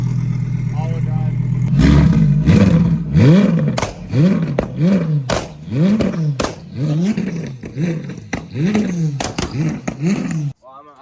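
A built twin-turbo V10 all-wheel-drive car revs hard through a series of rising and falling pulls as it downshifts, loud and close, with talk over parts of it.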